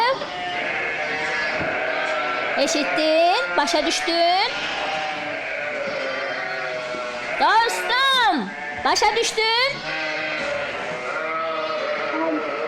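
Sheep in a flock bleat loudly in several bursts, wavering cries clustered in two groups, while someone speaks over and between them.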